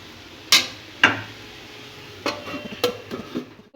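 A lid set onto a cooking pan of spiced cauliflower filling, a couple of sharp metallic clanks followed by softer knocks and rattles, close and clear with no talk.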